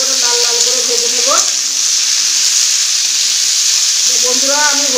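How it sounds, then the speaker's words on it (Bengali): Potatoes and pointed gourd frying in hot oil in a home kitchen, a steady close sizzle hissing throughout, with faint tonal background sounds at the start and end. "ভালো করে লাল লাল করে ভেজে নেব।"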